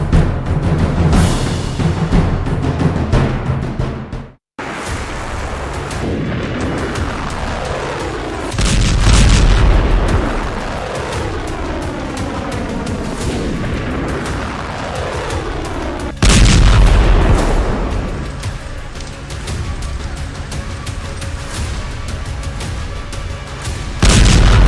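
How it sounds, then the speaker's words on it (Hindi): Heavy booming blasts from a Hezbollah missile strike on Israel, a loud thud near 9 seconds and another sharp impact near 16 seconds, over a continuous rumbling roar with falling whistle-like tones; no talk. "इजराइल पर हिजबुल्लाह की फादी मिसाइल गिरी"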